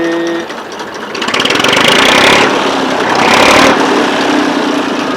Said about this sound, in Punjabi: ਦੇਖੋ ਟਰੈਕਟਰ ਦੀ ਕਿੰਨੀ ਪਿਆਰੀ ਆਵਾਜ਼ ਆ